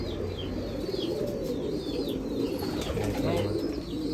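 Pure-bred household pigeons coo softly and repeatedly under a steady, noisy ambient background, with faint chirps and occasional wing flaps mixed in.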